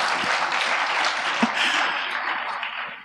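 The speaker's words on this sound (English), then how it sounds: "perhaps a second round of applause for Mike" Audience applause at an open source communities roundtable, a dense steady wash of clapping from a large crowd lasting the whole stretch and tapering slightly at the end.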